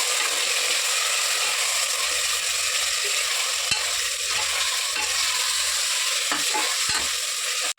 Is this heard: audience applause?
no